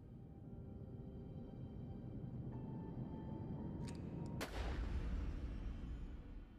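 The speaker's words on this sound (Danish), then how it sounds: "Skyder de mig?" A single sharp gunshot rings out in a historical dramatization of an 1880s assassination attempt on a Danish politician with a poorly functioning pistol. It is a loud, close crack over a steady low background hum, with no speech.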